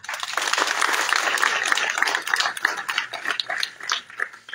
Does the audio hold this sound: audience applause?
yes